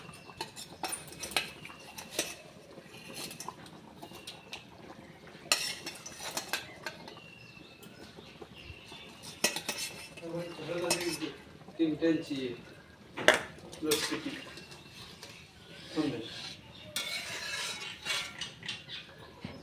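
A spoon or spatula clinks and scrapes in a metal wok while fish curry cooks at home, with hot water being added; irregular nearby clatter and stirring, with someone talking intermittently.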